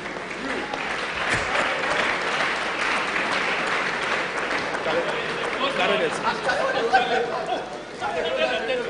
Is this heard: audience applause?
yes